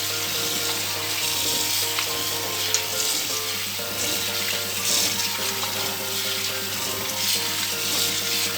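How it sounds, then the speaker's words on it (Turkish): Wheat for ashure is washed under running water, a loud, steady splashing and rushing stream with faint stirring noises that continue without a break. "Buğdayımız sarı suyu çıkana kadar iyice yıkayacağım."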